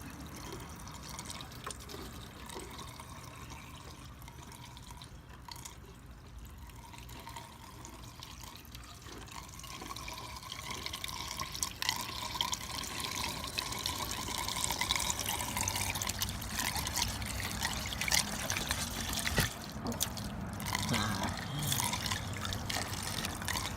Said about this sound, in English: I'm gonna pour it straight on down.